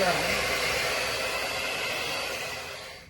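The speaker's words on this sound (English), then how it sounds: "take your blow dryer on the coolest setting" A hair dryer on its coolest setting blows steadily with a broad airy whoosh over a human-hair wig, constant and close, easing slightly at the very end.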